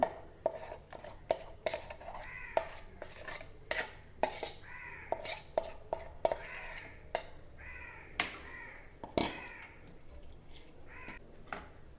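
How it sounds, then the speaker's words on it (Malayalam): Green chillies and a ground spice paste go into a cooking pot, with scattered clinks and scrapes of a spoon against the metal pot, close by and moderately loud. Crows caw repeatedly in the background. "ഇതിലേക്ക് ഒരു നാലഞ്ച് പച്ചമുളകാണ് ഇട്ട് കൊടുക്കാം അരപ്പിട്ട് കൊടുക്കാം"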